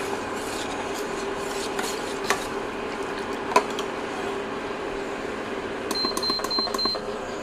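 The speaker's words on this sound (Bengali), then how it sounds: "সুজি তো অনেক সময় লেগে যায়, নিচে নাড়তে হবে এভাবে" Semolina is stirred in a pot, with a steady close scraping rub of the spoon against the base, a few sharp knocks on the rim, and a light metallic clatter near the end.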